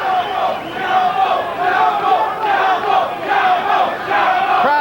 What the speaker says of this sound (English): Crowd around the ring, very supportive of Chapo Rosario.